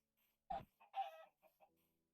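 A Minecraft Bedrock chicken clucks in a few short, clear bursts, the loudest near the start and a longer cluck after, with quiet gaps between and no talking.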